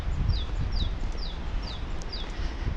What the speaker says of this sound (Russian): В парке щебечут птицы.